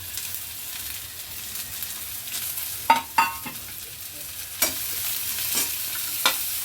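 Bitter gourd stir-fried with turmeric and salt in a pan, a steady close sizzle of frying under a few sharp clinks and scrapes of the spoon stirring against the pan, with no talking.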